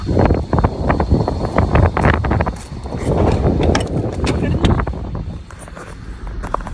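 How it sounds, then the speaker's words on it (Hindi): Strong gusty wind outdoors in Chandigarh's industrial area buffets the microphone in loud, uneven rushes, while a person talks over the blustery noise. "हवा कितनी तेज चल रही है।"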